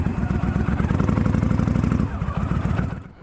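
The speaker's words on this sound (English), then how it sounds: "Let's take this V-Star 1300 for a spin." A Yamaha V-Star 1300 motorcycle with a salvage title rumbles close by as it is ridden, a deep pulsing engine throb with a steady beat that loosens slightly toward the end.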